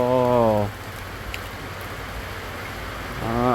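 Heavy rain pours down steadily with a dense, hissing roar that fills the whole clip, while a voice speaks briefly at the start and again at the end.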